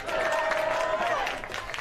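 A crowd applauds in the stands at a college rugby match between UCLA and the University of Arizona, a dense patter of clapping close by, with a voice speaking over it.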